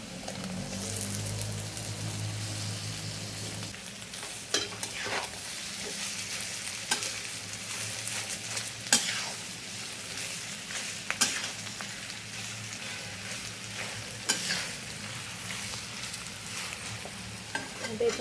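Potatoes fry and sizzle in a pan with turmeric while being stirred, a steady close sizzle with scraping stir strokes and occasional sharp clinks of the spoon on the pan throughout.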